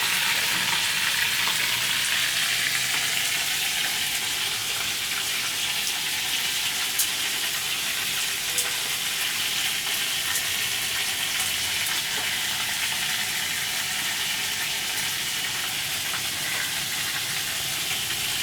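Fish frying in hot oil in an iron kadai, giving a loud, continuous hiss and crackle that holds steady throughout, close up, with no talking.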